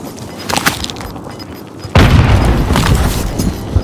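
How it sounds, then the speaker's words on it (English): A thrown grenade detonates in the video game Warzone with a heavy deep boom that hits suddenly and rumbles on, preceded by quieter in-game noise, loud and close. "I'm gonna throw a grenade."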